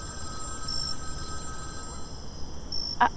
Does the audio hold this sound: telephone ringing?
yes